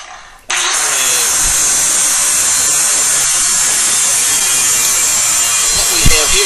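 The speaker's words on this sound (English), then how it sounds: "what we have here is a side angle grinder. We have a diamond blade on it." Close and loud, an angle grinder fitted with a diamond blade cuts into a cast iron toilet flange, starting abruptly and holding a steady, harsh, high-pitched whine.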